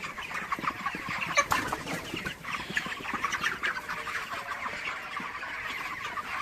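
Chickens, including a black hen and roosters, cluck steadily while eating scattered feed grain outdoors, a busy overlapping chorus of close and distant clucks with no talking.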